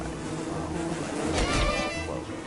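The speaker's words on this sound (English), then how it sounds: "Those bees, they don't do a ton of damage." Bees buzzing in the video game Don't Starve, a steady droning hum with a louder swell midway, fairly close and sustained throughout.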